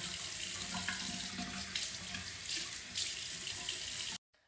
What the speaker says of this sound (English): Let me just wet my face just a little bit.